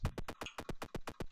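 Quick, evenly spaced game footsteps, about ten soft thuds in under two seconds, steady and close with no talking.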